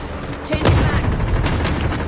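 Gunfire and explosions from a shooter video game: a heavy boom followed by a sustained, loud roar of shots and blasts with no pauses.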